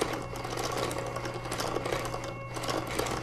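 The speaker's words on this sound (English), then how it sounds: "turn your machine on and wind" An electric yarn winder spins hand-dyed yarn off a swift in a steady, close mechanical whirr that holds at an even level throughout, with no talk over it.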